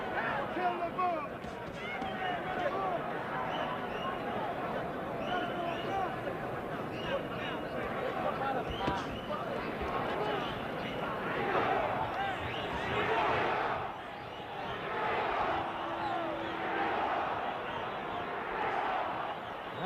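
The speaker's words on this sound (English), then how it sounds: "you hear the crowd picking up the chant for Ringo now" A large arena crowd at a heavyweight boxing bout between Muhammad Ali and Oscar Bonavena roars and chants continuously, with a dense wall of shouting voices rising and falling in waves and no clear commentary over it.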